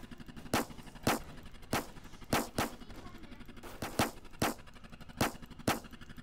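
Rapid gunfire from a tank or armored vehicle in the Roblox game Armored Patrol, sharp loud bursts spaced irregularly about a second apart, alone without talk.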